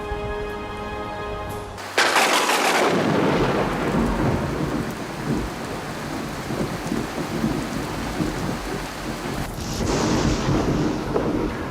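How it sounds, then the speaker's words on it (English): A thunderstorm brings a sudden close crack of thunder that rolls into a long rumble over steady heavy rain, with a second rumble building near the end. "Not a naval barrage, just a spot of inclement weather."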